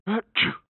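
A single sneeze in two quick bursts, a short voiced intake followed by a sharp, breathy release, close and fairly loud in an otherwise quiet room.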